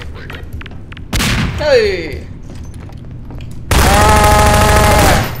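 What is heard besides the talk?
shotgun fire in the video game Half-Life 2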